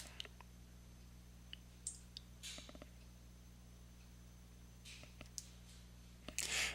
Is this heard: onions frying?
no